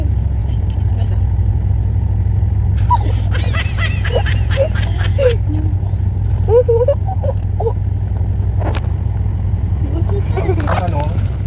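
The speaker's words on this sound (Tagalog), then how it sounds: "Traffic guys." Continuous street traffic on a road in Thailand, with steady engine rumble from cars and motorcycles rolling past nearby and a few brief higher-pitched sounds on top, no talking.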